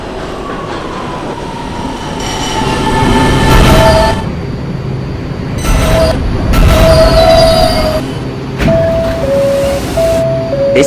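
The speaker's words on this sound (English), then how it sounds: "This is a Potatoburg bound N local train." Potatoburg-bound PST-4R N local subway train in a video game, rolling and squealing at Vanderbilt Avenue station, with swelling rumble, bursts of wheel noise and rising motor whine tones, loud and close throughout.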